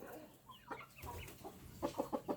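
A golden Thai game cock clucks softly, then gives a quick run of four or five clipped clucks near the end, faint and close with no talk.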